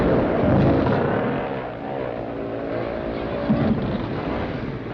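Engines of 1960s scrambling motorcycles, fitted with extra-grip tyres, roar up the banks of a hill course in a continuous loud drone that swells and eases, with a commentator's voice partly over it.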